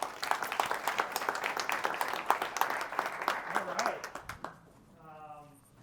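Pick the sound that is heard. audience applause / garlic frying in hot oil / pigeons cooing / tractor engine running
audience applause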